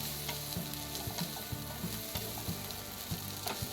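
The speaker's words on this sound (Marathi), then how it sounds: "एका पॅनमध्ये थोडं बटर टाका आणि हे स्वीट कॉर्न टाकून याला दोन मिनिटभर परतवून घ्या" Sweet corn kernels sautéing in butter in a pan give a steady, close sizzle with light stirring scrapes recurring about every half second, with no talking.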